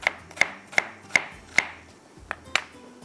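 A knife chops onion on a board in a quiet kitchen, six or seven crisp, evenly spaced strikes about a third of a second apart, close and clean with no talk.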